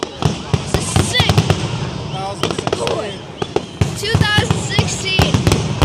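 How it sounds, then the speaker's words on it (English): Fireworks finale at Dobbs Ferry, with dense bursts, crackles and booms stacking over one another continuously, loud and fairly close, with excited voices shouting and cheering throughout. "Here's the final of the fireworks in Dobbs Ferry."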